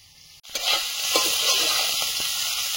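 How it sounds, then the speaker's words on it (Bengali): Soybean chunks added to potatoes already frying in a pan, a sudden burst of loud sizzling that settles into a steady close crackle, no talking. "এবার সয়াবিনটা দিয়ে আরো একটু ভেজে নেব।"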